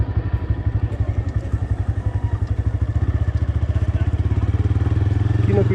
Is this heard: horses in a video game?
no